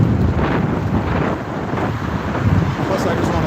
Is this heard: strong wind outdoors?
yes